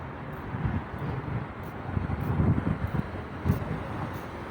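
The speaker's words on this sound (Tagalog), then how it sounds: "Masyadong mahangin." Strong wind gusts rush past the microphone outdoors at Riyadh Park, a steady low roar with rumbling bursts, and faint traffic hums along underneath.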